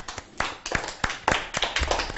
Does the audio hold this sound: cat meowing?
no